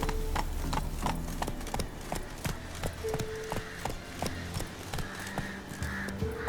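In The Witcher 3, a horse gallops with rapid, rhythmic clip-clop hoofbeats at steady pace, moderately loud, with ambient game sounds and a faint tone underneath.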